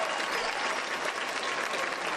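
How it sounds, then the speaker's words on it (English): Spectators in a high school boys basketball gym applaud an injured player getting back to his feet. The crowd's clapping is full and continuous. "The crowd will applaud Davison as"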